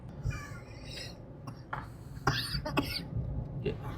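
A few harsh coughs break out over a murmur of low background noise and indistinct voices.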